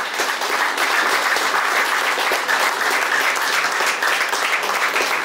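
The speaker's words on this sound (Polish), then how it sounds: "wielkie oklaski." An audience in Częstochowa's Museum of Coins and Medals of John Paul II gives a long, dense round of applause. It stays loud and steady throughout, with no one speaking over it.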